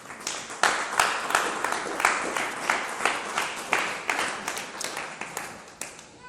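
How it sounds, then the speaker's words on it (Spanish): An audience at a church sermon claps together in rhythmic unison, a steady beat of sharp claps at roughly two per second, fading slightly toward the end. "Denle otro aplauso al Rey"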